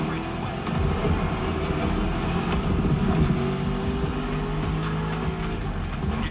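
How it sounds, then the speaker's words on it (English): A 1969 Ford Mustang Boss 429 muscle car in the racing game The Crew Motorfest, its engine roaring loudly and steadily throughout with some tire noise, close and continuous. "driving my #1 car, the star of my collection, the 1969 Mustang Boss 429"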